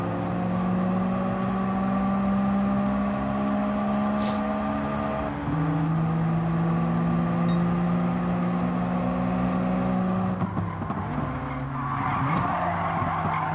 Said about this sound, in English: As I can just hear a couple of Daihatsus behind me, just eager to get past.